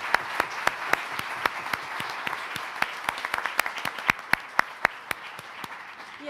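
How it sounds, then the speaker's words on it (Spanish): An audience at a judicial electoral event gives its speakers a round of applause, a diffuse wash of clapping with sharp, regular hand claps standing out close by, keeping a steady rhythm throughout. "les invito a que nuevamente despedamos a nuestros ponentes con un fuerte aplauso"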